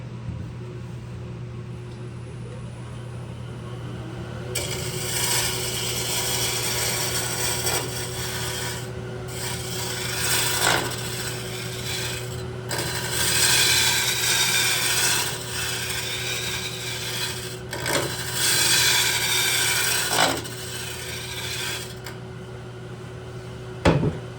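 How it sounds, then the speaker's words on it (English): Gouge cutting an apple wood bowl on a lathe, a 5/8 gouge smoothing the surface in a steady rasping, scraping run over a constant motor hum, with repeated passes swelling and easing, close and fairly loud, no talk. "We'll try and smooth it out with the 5/8 gouge"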